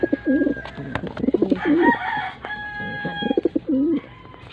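Pigeons coo repeatedly nearby in soft, rolling phrases, with occasional clicks and faint background noise between calls.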